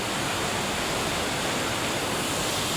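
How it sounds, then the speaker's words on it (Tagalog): A cold, clear river fed from Mount Banahaw rushes along near Dilitiwan Falls in Majayjay, Laguna, a loud, dense, unbroken wash of flowing water heard close by, with no voices. "ilog na nanggagaling sa bundok Banahaw"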